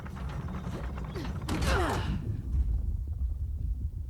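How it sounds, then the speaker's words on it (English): A crank turning in Uncharted: The Lost Legacy, with a heavy mechanism creaking and grinding, a sharp surge of straining creaks midway, then fading into a low rumble. "guess we turn this crank and see what happens next"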